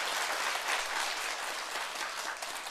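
An audience at a Buddhist monk's talk applauds in a steady, dense wash of clapping that holds evenly throughout, moderately loud, with no voices over it.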